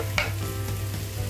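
Onions going into hot oil with frying garlic, a steady sizzle and a brief stirring scrape near the start, close and fairly loud throughout.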